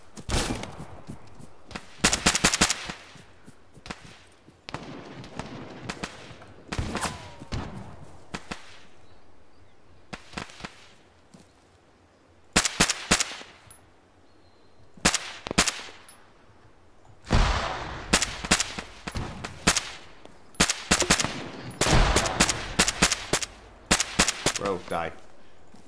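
Bursts of gunfire crack in rapid clusters during a close-quarters battle training exercise, some single shots and some fast volleys, loud and sharp with quieter gaps between.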